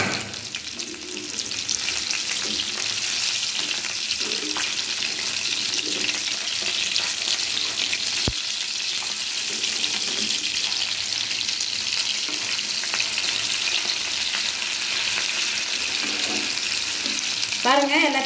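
Seela fish fries in oil with curry leaves, a constant close crackling sizzle lasting the whole stretch, with a single sharp click partway through and no talk.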